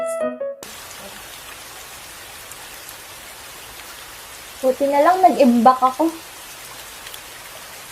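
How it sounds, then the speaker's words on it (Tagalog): Steady heavy rain hisses throughout; a voice speaks briefly partway through, and a short tone sounds at the very start. "Ang lakas ng ulan."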